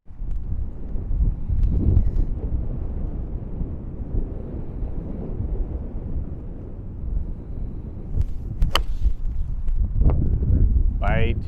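Strong wind roars over a links golf course at Sheep Ranch, a loud, constant buffeting rumble across the microphone with players talking over it.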